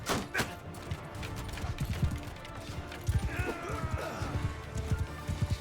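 Galloping horses in Mount & Blade II Bannerlord battle, rapid irregular hoof thuds with an occasional whinny amid clashing combat noise, with voices partly audible over the action.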